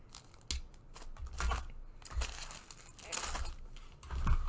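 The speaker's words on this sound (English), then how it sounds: "So I'll cut off a bit of string there." Scissors cutting string while wrapping a giant candy decoration, several close snips mixed with crinkling of wrapping material, fairly quiet and irregular.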